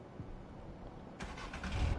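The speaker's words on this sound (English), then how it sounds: "Start the engine." A truck engine starts up in the Truck & Logistics Simulator video game, first a low idle rumble, then a broad rushing surge as the motor catches and builds louder toward the end.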